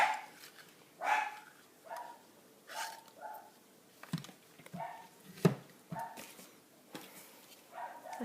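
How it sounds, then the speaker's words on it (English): Several dog barks, short and sharp, scattered through the clip with a faint clicking in between, at moderate distance. "I think my dogs are trying to tell me that they're hungry."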